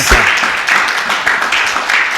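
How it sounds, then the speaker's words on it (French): Church congregation clapping hands during a lively service, a dense wash of applause with faint rhythmic accents, close and full, with voices mixed in underneath. "Applaudissons pour 3 millions. Clap your hands."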